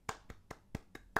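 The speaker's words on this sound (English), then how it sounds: "soft round of applause" Soft hand clapping, six slow, light claps spaced evenly and heard close up, with no other sound between them.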